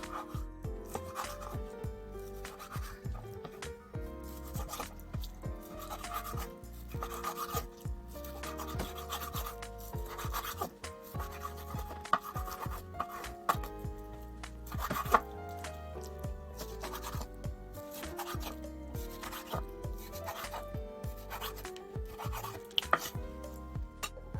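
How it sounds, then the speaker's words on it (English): A knife slicing frozen salmon into bite-size pieces on a board, with repeated quiet scraping and chopping strokes, irregular but continuous, close and soft, with no voices. "I'm going to cut it in bite size"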